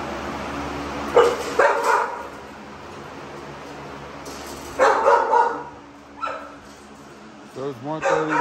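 Dogs in kennels bark at night during a late feeding: short bursts of barking and yips come in several clusters at moderate distance over a constant low background hum, with a person talking between them.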